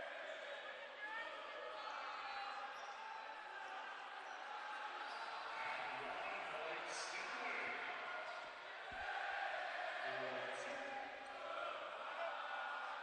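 A home crowd at a men's college basketball tournament game sings a sustained, rhythmic chant, filling the arena as a steady, distant roar with a brief thump near the end.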